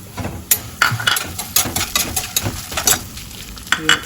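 Cashews and green chillies frying in oil for an okra fry, a soft sizzle broken by repeated scraping and clinking of a spoon stirring in the pan, close and without talk.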